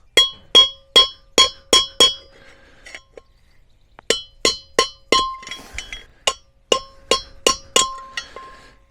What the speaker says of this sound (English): We'll just go from the back side, just catch the edge with a little hammer.